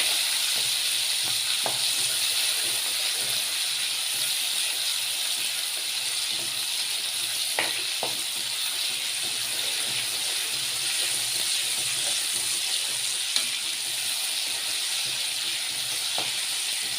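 Tomatoes and chillies sauté in a hot pan, giving off a steady, even sizzle and hiss. It runs throughout at moderate loudness with a few faint stirring clicks and no talking.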